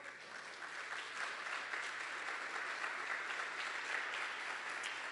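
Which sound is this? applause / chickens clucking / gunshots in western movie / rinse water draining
applause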